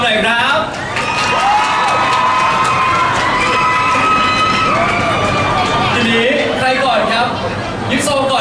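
Children in a group cheer, shout and whoop with scattered clapping mixed in, a lively crowd noise that holds loudly throughout, with excited voices rising and falling.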